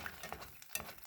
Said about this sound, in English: you see my eggs are already frying.